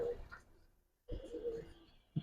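Pigeons in a loft give faint, soft cooing calls in short bursts, separated by a brief near-silent gap.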